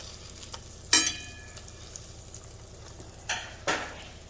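Halloumi cheese frying and caramelising slowly in a pan gives a soft, steady sizzle, broken by a few sharp scraping or stirring clatters near the start and toward the end.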